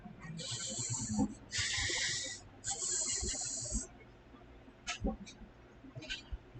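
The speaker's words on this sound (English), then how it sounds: "it's sort of like a hissing sound" A snake hissing sound effect in a tabletop game session, three long loud hisses in a row, followed by softer clicks and rustles as people talk quietly in the background.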